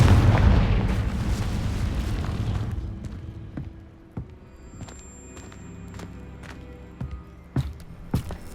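A Confringo spell explodes in Hogwarts Legacy with a loud, close booming blast that rumbles and fades over a few seconds, followed by scattered sharp game impacts and clicks.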